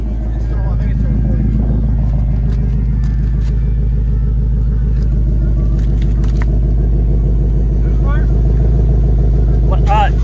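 A 2021 Ford Mustang Mach 1 with the Handling Package sits idling with a deep, steady engine rumble, held near and loud throughout with slight swells, while people talk nearby.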